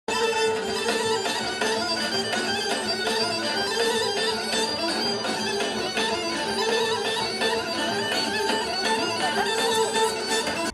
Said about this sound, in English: Traditional folk music that sounds like this.